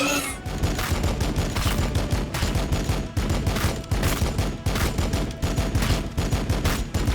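Rapid rhythmic gunfire volley in the Warhammer 40,000 strategy game Battlesector, dense repeated bursts of shots in quick succession, loud and sustained for several seconds with no voices.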